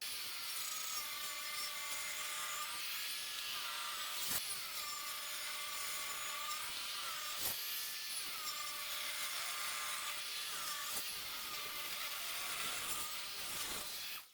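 A table saw rips a 2x4 lengthwise into 1x2 strips, its blade giving a loud, steady high whine through the whole cut with a few brief knocks and thumps along the way and no talking.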